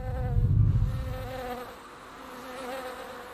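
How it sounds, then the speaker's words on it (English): Bees buzz softly outdoors, a low droning hum that swells and fades, with no talking. "buzzing bees are a year-round focus"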